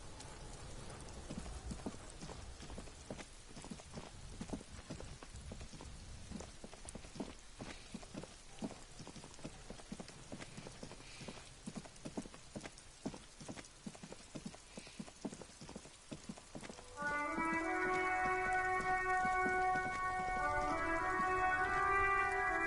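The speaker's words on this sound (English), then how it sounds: "It's raining again." Steady rain patters with dense, irregular drops in the detective game Disco Elysium. Soft music joins near the end and plays on under the falling rain.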